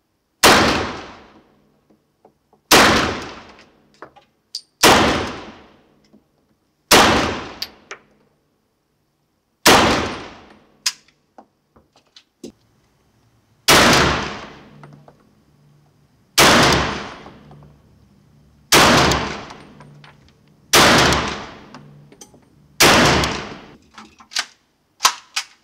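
Chiappa PAK-9 pistol in 9x21 firing at a range, about ten sharp loud shots spaced a couple of seconds apart, each with a short ringing decay and no talk.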